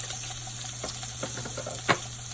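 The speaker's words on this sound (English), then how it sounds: "now that this butter is melting, I am going to go ahead and put my onions and garlic in" Onions and garlic frying in melted butter, a quiet steady sizzle with a few soft stirring taps and one sharper clink.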